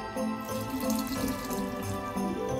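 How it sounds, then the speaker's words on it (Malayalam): Cooled boiled water is poured steadily into a jar of homemade apple wine, a continuous splashing, gurgling pour heard close up for a few seconds with no talk. "ഇനി നമ്മൾ എടുത്തു വെച്ചിരിക്കുന്ന 2 ലിറ്റർ വെള്ളം ആഡ് ചെയ്ത് കൊടുക്കുക."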